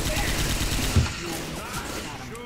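Rapid automatic gunfire rattles in a Left 4 Dead 2 zombie shooter session, a dense burst of shots lasting a couple of seconds amid game noise, with voices mixed in.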